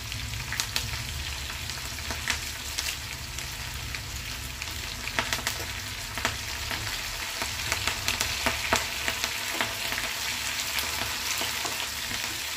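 Onions, green chillies and curry leaves frying in oil in a pan, a steady close sizzle with scattered pops and crackles throughout, no talking.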